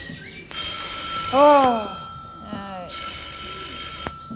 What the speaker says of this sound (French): Ton téléphone sonne, quelqu'un t'appelle.